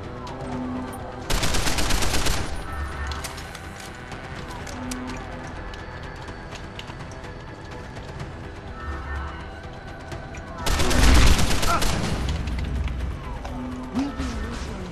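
Gunfire in the video game Deus Ex: Human Revolution comes in two loud rapid bursts, one near the start and one near the end, over quieter game ambience.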